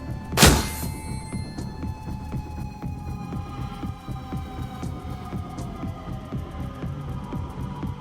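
A grenade goes off in the Shadowrun: Dragonfall video game, one sharp booming blast near the start that fades under a steady low game hum and soft thuds.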